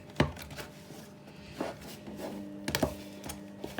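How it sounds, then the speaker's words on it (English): Jamaican festival dough stirred with a spoon in a bowl, a few soft scraping knocks spaced out over a few seconds, close and fairly quiet, with no talking. "I'm just using a spoon. And I'm mixing it in."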